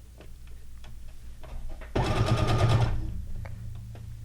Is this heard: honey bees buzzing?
no